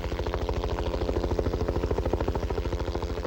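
A police helicopter flies close and loud, its rotor beating in a steady rapid chop over a continuous engine whine.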